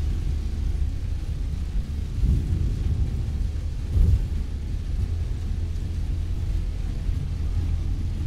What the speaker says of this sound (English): Yeah, we definitely hit like rainy season.